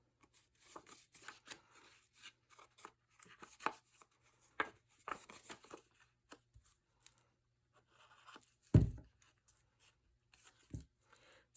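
Paper being folded by hand for a Graphic 45 folio belly band, with soft crinkles, creasing swipes and a sharper thump near the end, quiet and close.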